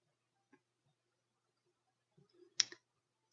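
A single sharp computer mouse click, close and fairly loud, stands out against an otherwise quiet room, with a few faint small clicks before and after it.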